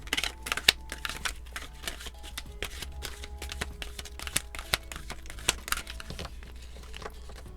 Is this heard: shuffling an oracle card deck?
yes